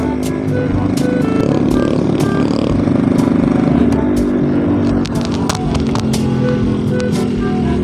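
A 125 cc motorcycle engine roars at full throttle and high revs, loud and steady, with clattering mechanical noise throughout.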